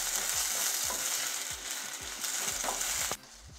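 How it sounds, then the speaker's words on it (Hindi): Sliced onion with garlic sizzles in a hot pan, a loud, steady frying hiss broken by repeated scraping stirs, heard close up with no talking. "प्याज को हमने 2 मिनट के लिए फ्राई किया है"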